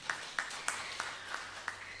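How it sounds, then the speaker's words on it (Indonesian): Congregation at a GKPS Cililitan Sunday church service applauds with a slow run of evenly spaced, crisp claps over a soft roomy background, moderately quiet and steady. "tepuk tangan untuk kita"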